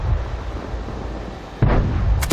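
A tank cannon shot in World of Tanks: a continuous low rumble of battle noise, then a sudden broadband blast near the middle and a sharper crack at the end, loud and close with no talking.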